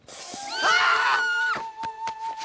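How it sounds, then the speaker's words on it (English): Cartoon character from Kim Possible letting out a loud, wavering scream that rises and falls for about a second, followed by a few sharp knocks and a lingering high tone. "I was just practicing my screams of courage"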